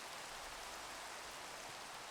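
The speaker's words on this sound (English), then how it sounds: "It's dark and it's rainy." Steady rain pours down in the blocky world of Minecraft (SkyFactory 3 modpack), a dense, even hiss that fills the clip without a break and with no voices over it.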